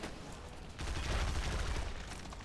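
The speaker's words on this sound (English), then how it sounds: "Actually, the shotgun works amazingly on Minotaurs." Shotgun blasts in a first-person shooter against Minotaurs, a dense rattling burst of gunfire swelling loud and steady after a quieter start, with no talk.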